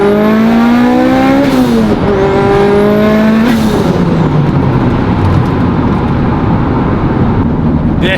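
A Mitsubishi Evo 8 engine rips up through the gears on a dyno from second, loud and close, each climbing rev sweep cut by a quick shift, then settling into a steady roaring drone.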